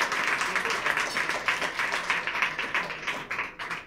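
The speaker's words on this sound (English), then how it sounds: "You should all give yourselves another huge round of applause." An audience at a competition event bursts into lively applause, with rhythmic, close claps rising and falling in waves and a faint voice in the background.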